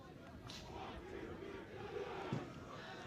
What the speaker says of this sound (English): this will be the biggest crowd of the day, supporting St Joe's in their final outing